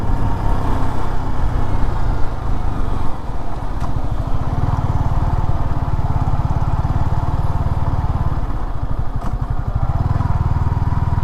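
Motorcycle engine droning steadily while riding on a road trip from Bangalore toward Chikkaballapur, a continuous close hum with slight surges, no talking.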